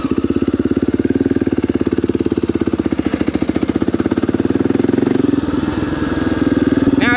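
A Honda XR650L dual-sport motorcycle engine putters loud and close in a fast, even thumping rhythm, revving up slightly near the end.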